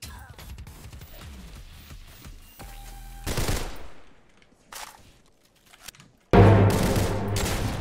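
Gunfire in the Roblox game Criminality, several sharp bursts of automatic shots, some loud and close, separated by quieter gaps and a few softer sounds.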